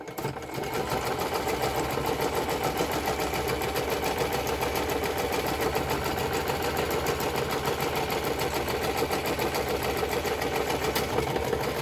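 A sewing machine runs a straight stitch through masterboard paper, a close, continuous mechanical whir that holds a steady rhythm for the full stretch.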